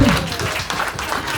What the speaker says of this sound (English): Can we get another round of applause for Debbie?